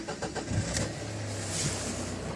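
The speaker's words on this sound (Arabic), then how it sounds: "نديرو امرش السياره" A 2012 Renault Kangoo with a diesel engine cranks briefly and then catches, settling into a steady idle that hums close by and alone.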